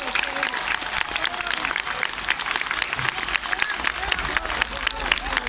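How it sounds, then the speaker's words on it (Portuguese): A festival crowd in Castelões, Famalicão, applauds loudly during a live folk music event, dense sustained clapping filling the whole stretch with a few crowd voices mixed in. "uma salva de palmas para os de Castelões"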